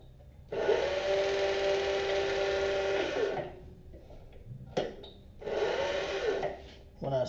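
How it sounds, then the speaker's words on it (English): Cobra leather skiving machine trimming the edges of leather bottom gusset pieces for a laptop bag, with two loud, steady whirring runs of a few seconds each, separated by brief quiet and small clicks. "these 3 pieces are the bottom gusset pieces, and I'm going to skive all 4 sides of these."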